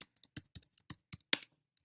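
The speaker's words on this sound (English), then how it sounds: "let's go ahead and type in gun control" Quick keystrokes on a computer keyboard, about a dozen light clicks tapped out in an uneven rhythm with a slightly harder strike near the end, close and fairly quiet with no talking.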